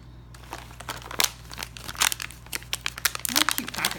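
Triangular plastic packaging around a squishy rubber duck toy crinkles and crunches close up in irregular bursts, building louder toward the end.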